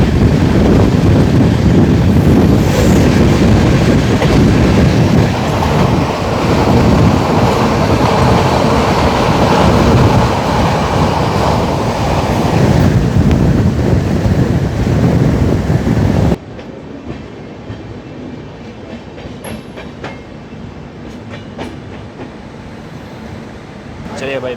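Bhavnagar–Bandra Weekly Express, train number 12972, roars past at close range with loud rumbling and clatter of wagons, then cuts to a much quieter stretch of faint background noise.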